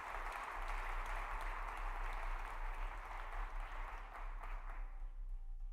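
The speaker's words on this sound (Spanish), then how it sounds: "Lo aplaudimos a Él." Church congregation applauding together, a steady, even patter of many hands held at a moderate, slightly distant level and tapering at the end.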